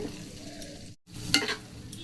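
Fried egg pieces are stirred into a sizzling boiled-egg tarka curry, with soft scraping and a steady frying hiss broken by a brief silent pause, fairly quiet and close.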